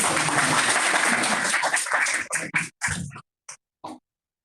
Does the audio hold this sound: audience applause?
yes